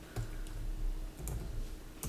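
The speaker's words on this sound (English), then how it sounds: "My typing, isn't it?" Computer keyboard typing, a few quick faint clicks and taps at uneven intervals over a low room hum.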